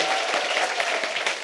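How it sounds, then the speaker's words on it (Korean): A warm burst of audience applause for the mayor at a happiness lecture concert, a brief, steady wash of many hands clapping. "귀한 시간 내주신 시장님께 뜨거운 박수"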